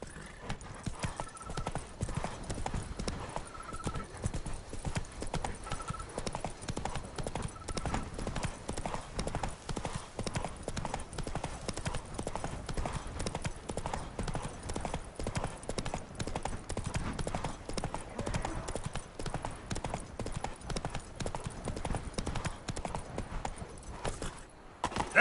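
Hoofbeats of a horse galloping steadily in The Witcher 3: Wild Hunt, a dense continuous clip-clop rhythm that runs at even, moderate loudness throughout, with a brief whinny-like tone early on and no talk.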